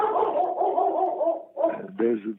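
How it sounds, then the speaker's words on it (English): A pet dog vocalizing in a home, a run of whining, yelping barks that rise and fall for over a second, then two short bursts close to the microphone. "The dog is agreeing with me, you see."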